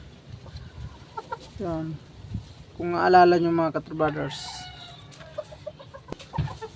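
A hen clucks in short, close calls among other chickens, intermittent over someone talking.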